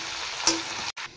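Shredded boiled cabbage and chopped tomatoes sizzle in a hot pan, a soft steady frying hiss with a brief clink of a stirring utensil partway through.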